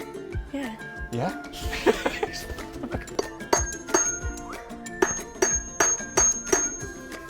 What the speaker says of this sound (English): get the chisel in there. Give it a whack